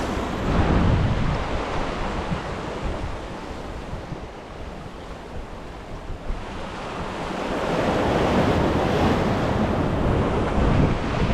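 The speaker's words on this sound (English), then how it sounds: "Then you got those sneaker waves." Ocean waves break on the rocks at Half Moon Bay, California, as a loud, continuous surging roar, with wind buffeting the microphone and the surf swelling again toward the end.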